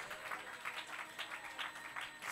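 A church congregation at a Sunday celebration service claps and cheers in a steady, continuous wash of applause with bursts of voices, moderately distant and filling the whole clip.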